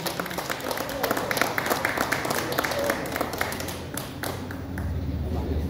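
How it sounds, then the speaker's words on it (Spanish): Crowd at a weigh-in ceremony applauds in a continuous patter of claps and taps, with voices talking over and around the clapping throughout. "Fuerte aplauso."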